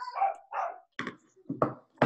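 A dog barks several times in short, uneven bursts close by, some yips mixed in, with brief gaps between barks.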